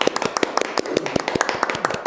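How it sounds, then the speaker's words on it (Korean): An audience claps at a Korean book talk to welcome science communicator and former science museum director Lee Jung-mo, a brisk crowd of sharp, overlapping handclaps sounding close and steady throughout. "박수로 환영하겠습니다."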